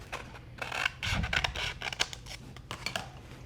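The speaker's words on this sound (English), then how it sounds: "pair of scissors" Repeated crisp snips of scissors cutting through material, close up, in a quick uneven rhythm with no talking.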